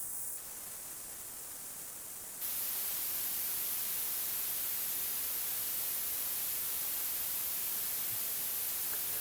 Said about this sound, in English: even though noise shaping curve B and C sound lower to our ears than noise shaping A